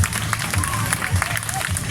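Crowd applause for trial freestyle riders at an outdoor event in Novi Ligure, a dense patter of clapping with a voice talking over it.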